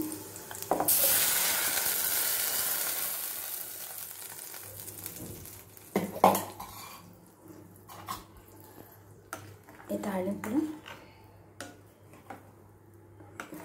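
Tempering for amaranth stem buttermilk curry sizzles loudly in a pan, a steady hiss that gradually fades, followed by light clinks of utensils and faint kitchen clatter, with no talking.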